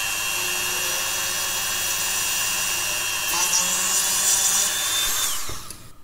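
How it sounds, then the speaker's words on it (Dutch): A small drill bores an extra hole in a Fleischmann DB IC model train wagon, a steady high whine running close and alone for about five seconds before winding down. "Even een extra gaatje boren."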